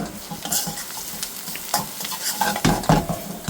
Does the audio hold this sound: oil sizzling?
yes